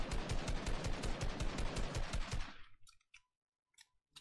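Fast automatic weapon fire in Fortnite hammering a built structure, a dense rattling burst of shots lasting about two and a half seconds before stopping, followed by a few faint clicks.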